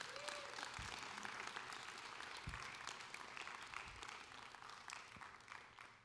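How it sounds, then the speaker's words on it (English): Audience applause at a chapel missions conference panel, honoring missionaries; dense, steady clapping from a large crowd fills the whole stretch, slowly thinning toward the end, with a few louder thumps. "Can you guys give a round of applause for them?"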